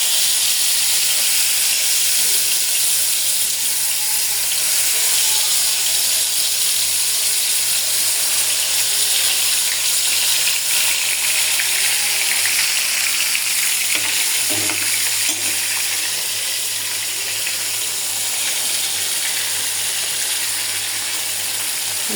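Spice-coated koi fish frying in hot oil, giving a steady, loud, close sizzle and hiss that runs unbroken throughout, with no talking.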